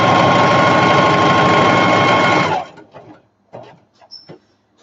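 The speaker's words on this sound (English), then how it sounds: "I felt like I was closer to this side, so I'm going to go ahead and quilt down here." A sewing machine quilting a fabric storage bin runs in a loud, steady, close whir for a couple of seconds, then stops, leaving a few soft handling clicks and a brief thin squeak.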